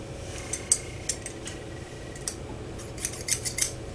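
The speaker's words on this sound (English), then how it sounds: "I have a pair of scissors right here" A pair of scissors handled indoors, giving a scatter of small metallic clicks and snips, close and quiet, spaced irregularly over a low steady room hum with no talking.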